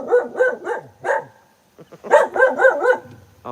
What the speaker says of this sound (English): Her bark, she's like, woo, woo, woo, woo.